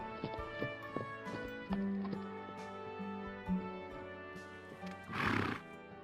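Wild mustang horses neigh and whinny in several loud, close calls, with soft clip-clop hoof steps between them and a burst of breathy snorting near the end.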